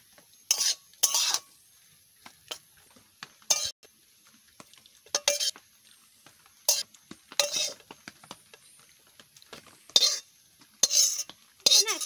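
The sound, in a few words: large spoon scraping carrot upma in a dish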